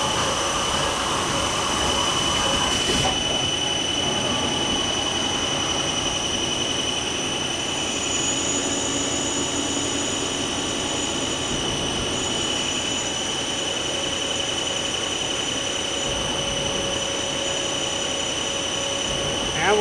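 Mazak T-2/T-3 CNC lathe drilling a part: a steady, loud machining whine with high tonal lines over a broad mechanical hum, a sharp shift near the start, then continuous running with no talk.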